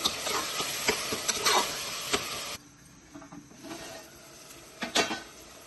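Onions frying with ginger-garlic paste in a pan for Mandya-style chicken biryani, a steady close sizzle with occasional stirring scrapes, quieter midway.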